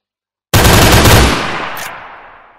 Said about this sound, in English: There's an automatic deagle.